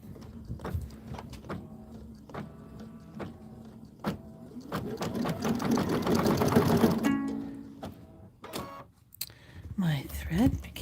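An embroidery sewing machine stitches a freestanding lace napkin in a rapid mechanical chatter that builds and fades, broken by clicks and clunks of the hoop moving. Quiet talk occurs nearby.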